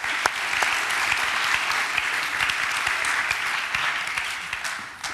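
An audience applauds steadily at a museum conference on stage guests from Switzerland, a dense, even wash of many hands clapping close by for about five seconds, fading slightly at the end.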